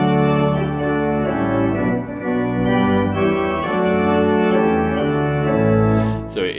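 Mombach's setting of Psalm 24 for the return of the scrolls to the Ark, heard as sustained organ-like chords with a choral, song-like line, steady and full throughout a synagogue setting, no talking.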